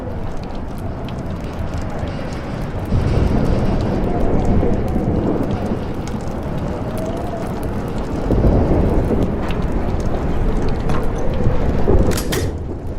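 A thunderstorm in Life Is Strange brings heavy, constant rain with rolling thunder that swells in two long surges, and a sharp crack comes near the end.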